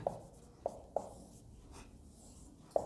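Pen or chalk writing strokes, a few short scratchy marks spaced apart, close and quiet with no talk.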